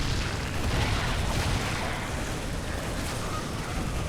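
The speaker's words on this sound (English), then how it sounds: "You just keep shooting and just keep shooting at her." Explosions from constant shooting in StarCraft 2: dense, rumbling booms and bursts blend into a loud, continuous wall of battle noise lasting several seconds, with no pauses between blasts.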